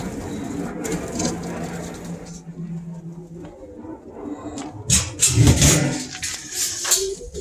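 Pigeons in a loft coo and shuffle nearby, low throaty calls mixed with rustling and a clatter of movement that grows busier toward the end, no speech.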